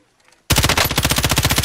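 Rapid automatic gunfire in Call of Duty: Modern Warfare erupts after a brief near-silence, a loud, dense burst of evenly spaced shots.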